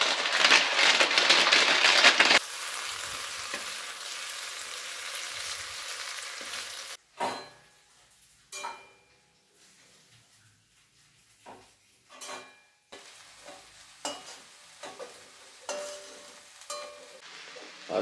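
Grated dry coconut frying in a home kitchen pan, a loud steady sizzle for the first couple of seconds that drops to quieter intermittent stirring scrapes and soft crackles, with no one speaking.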